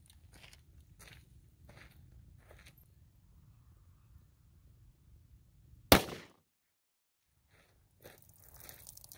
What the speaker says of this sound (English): This is that gel shot.